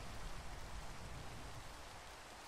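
Steady rain falls in the Minecraft video game, a dense, even hiss of drops with a low rumble underneath. It continues unbroken for the whole stretch, fairly loud, with no voices.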